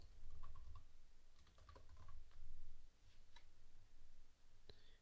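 Quiet typing on a computer keyboard in short bursts of light key taps, faint and close against a low background rumble.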